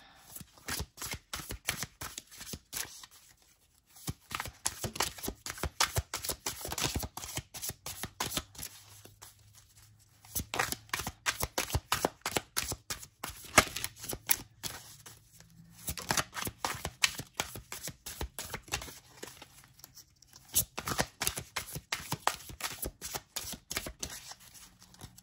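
Large tarot cards riffled and shuffled repeatedly in bursts of rapid flapping, several rounds separated by brief pauses, close and clear with no talking.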